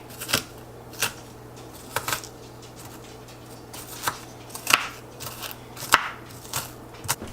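Knife chopping onions on a board, with sharp, separate cuts spaced irregularly, about one per second, over a low steady hum.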